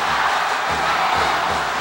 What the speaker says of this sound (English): And the LaSalle crowd goes crazy.